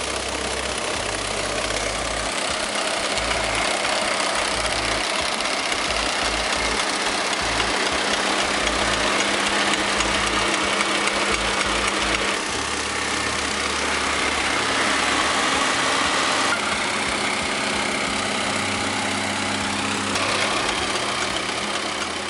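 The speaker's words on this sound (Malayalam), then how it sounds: "കാർ സ്റ്റാർട്ട് ചെയ്യുമ്പോൾ അതിന്റെ ടയറുകൾ ചലിക്കുന്നത് വഴിയാണ് ഈ മില്ലിംഗ് മെഷീൻ പ്രവർത്തിക്കുന്നത്" A car engine drives a milling machine through its turning tyres, running with a steady, loud mechanical drone and a knocking rumble throughout, with no pauses.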